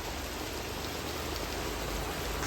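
Heavy rain pours down steadily in Dehradun, a dense, even hiss of countless drops on surfaces with no pauses, heard alone without talking.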